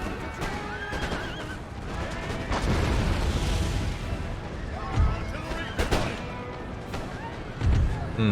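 Cannons fire in the battle game Empire: Total War, several deep booms among horse neighs, hoofbeats and clamor, with someone talking over it.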